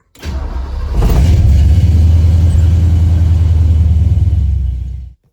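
A 1968 Ford F100 truck, fitted with a new ignition switch, cranks briefly and then fires into a loud, steady, low idle rumble that runs close by until it cuts off abruptly.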